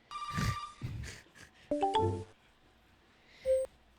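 An MSN Messenger notification chime: bright tonal blips and short ascending electronic notes in a quick cluster, then one more chime after a short gap. No speech.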